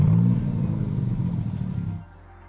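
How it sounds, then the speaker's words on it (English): Maserati MC20 with a twin-turbo V6 of 630 ps heard on the road, a loud low droning engine note with a gritty mechanical rasp that holds steady, then drops away abruptly near the end. "You hear behind me that V6 engine."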